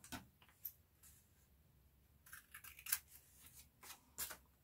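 Scissors clip the corners of paper for a handmade envelope, producing a few faint, close, crisp snips spaced irregularly over a few seconds in a quiet room.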